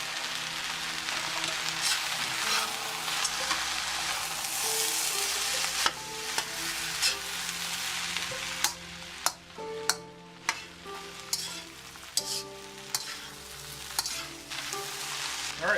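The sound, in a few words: eggs and rice stir-frying in a pan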